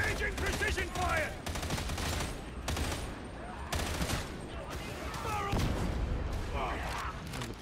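Rapid volleys of gunfire in a war video game, loud and continuous, with shouted voices mixed among the shots.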